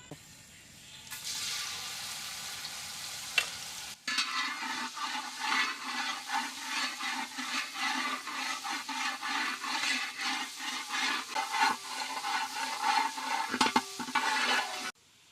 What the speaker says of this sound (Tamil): கடல் எண்ணெயில் பூண்டை போட்டு வதக்கணும்னா நல்லா ஜம்முன்னு மனமாக இருக்கும்ப்பா